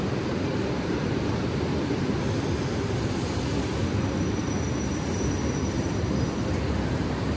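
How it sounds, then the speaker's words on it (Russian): Moscow electric commuter train T4M-0050 running, heard from aboard as a constant loud rumble of wheels and motors with a thin high whine, steady and unbroken, with no voices. "Итак, наша первая электричка, это Т4М-0050."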